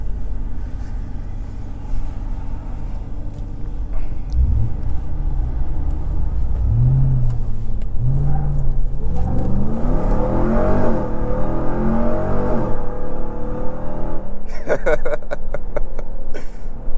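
A RAM 1500 TRX Havoc Edition pickup's engine rumbles loud and close, with the revs rising and falling through the middle of the stretch and a steady drone throughout; a voice speaks briefly over it.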